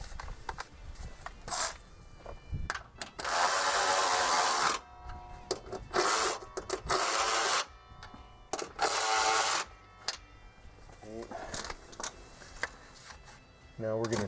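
A ratchet snugs down 15 mm strut tower nuts on a 2008-2014 Dodge Avenger, giving repeated bursts of close clicking and rasping with short pauses between strokes.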